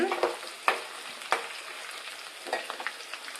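Crushed garlic cloves and peanuts frying in oil over low heat, a soft continuous sizzle broken by several sharp stirring clinks and scrapes, close and fairly quiet, with no talking.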